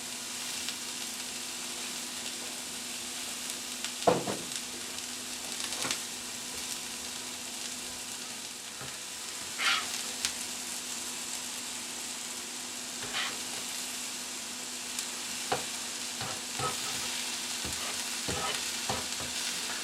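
Hash browns and steak fry in extra virgin olive oil in a pan, giving a steady, close sizzle with a few scattered knocks and scrapes as the food is moved around.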